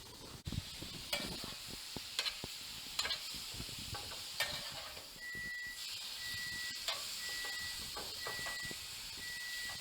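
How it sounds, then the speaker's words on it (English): Steak fajitas stirred in a hot pan, giving a soft, steady sizzle and hiss broken by repeated scraping clatters of the utensil, fairly quiet and heard alone. "going to go ahead and just mix it all up and let it cook together here real quick"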